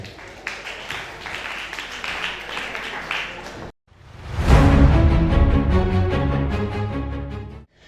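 Applause in a female singing competition, scattered clapping at first, then a brief pause before music swells in loudly and carries on.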